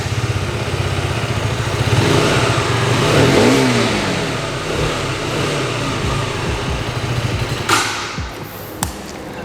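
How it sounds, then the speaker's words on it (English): KTM RC 125 BS6 motorcycle with an underbelly exhaust, started up and running, a loud, close, steady engine drone with a brief rev swelling near the middle, then a few sharp clicks and knocks toward the end. "I forgot to tell you something really very important, and that is the exhaust note of this bike. So let's turn it on, and here it comes to life."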